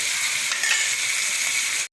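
Cut dried red chillies sauté in hot oil in a pan for a chutney, giving a steady, close sizzle that cuts off abruptly at the end.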